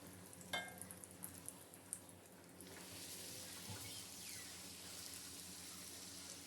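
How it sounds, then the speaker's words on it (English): Suji puri frying in hot oil over a high flame, with a few sharp crackles early on that give way to a steady, faint, continuous sizzle. "On high flame, fry the puri."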